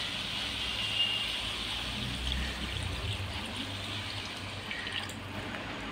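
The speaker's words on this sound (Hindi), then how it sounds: "इसमें अभी हल्का सा, बहुत हल्का सा पानी डालेंगे।" A small amount of water poured into chicken cooking in a pan, heard as a soft, steady, close trickle and sizzle with no talking.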